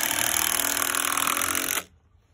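Power drill whirring steadily at close range as it drives screws into 4x4 lumber, a loud continuous grind that cuts off abruptly near the end, leaving near silence.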